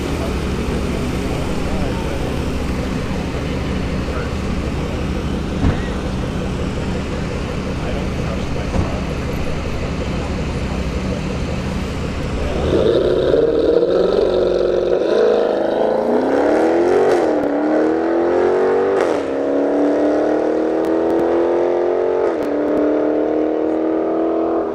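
A Dodge Scat Pack 392 makes a drag racing run at a dragstrip: a loud engine idles and rumbles, then roars up through the gears in rising sweeps as it launches down the track, with people talking over it.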